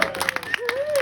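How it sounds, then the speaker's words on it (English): Festival audience at an outdoor spoken-word event cheering and clapping in a short, lively burst, with a whistle rising through the middle and scattered claps throughout. "so cheer and clap go wild for me"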